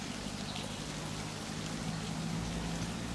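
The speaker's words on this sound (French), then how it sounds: "je me suis mis à l'abri de la pluie parce qu'il pleut et le lavoir est là" Light rain falls steadily on and around a stone wash house in the French village of Vouvant, a soft continuous patter with no voices, heard from under shelter.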